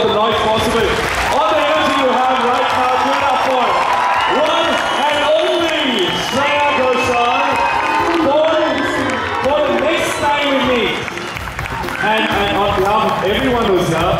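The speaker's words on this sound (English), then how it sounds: "we'll have to together give a big applause and put our hands together, make all the noise possible." A concert audience at an event in Hyderabad applauds and cheers: loud, sustained clapping and shouting that fills the whole stretch, with only a brief dip near the end.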